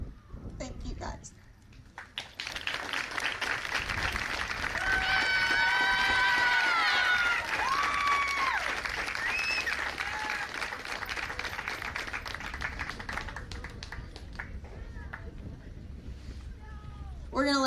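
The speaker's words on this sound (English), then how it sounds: "These girls deserve every bit of applause you can give them." Crowd applause and cheering for a girls' fastpitch softball team, sustained clapping with whistles and shouts, heard close and loud after a brief quieter lead-in, with people talking in the clip.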